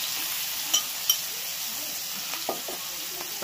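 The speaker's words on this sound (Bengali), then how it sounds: "এবার দিয়ে দেবো রসুন থেতোটা" Crushed garlic frying in a pan with oil, a steady soft sizzle with a few light clinks and stirring scrapes near the end, close and moderately quiet.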